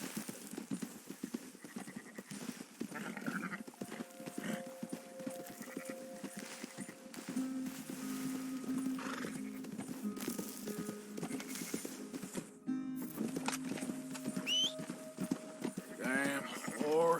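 Horse hooves clip-clop in Red Dead Redemption 2 as a rider urges the mount on, steady rhythmic steps under game music and a voice talking and shouting.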